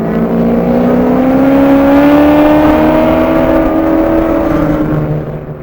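A Fairmont race car on a track at High Plains Raceway roars loudly and close by, a sustained engine drone climbing slightly in pitch, then dropping away at the end.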